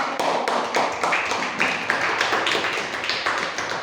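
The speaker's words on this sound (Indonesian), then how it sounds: "Tepuk tangan untuk kelompok 3." A classroom audience applauds a student group at a teacher-training session, the clapping steady and dense throughout, close and fairly loud with no talking over it.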